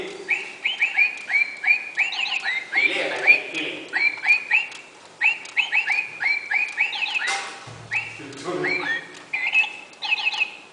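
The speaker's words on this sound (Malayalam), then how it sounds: "ആ കിളി" A bird calls repeatedly with sharp, bright chirps and whistles in quick bursts, close by, with occasional quiet voices underneath.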